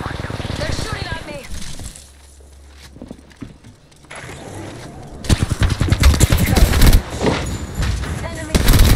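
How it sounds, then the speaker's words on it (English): Enemy gunfire in the battle royale shooter Apex Legends, rapid bursts of automatic shots that crackle loudly near the end after a quieter stretch, mixed with game voice lines. "They're shooting at me!"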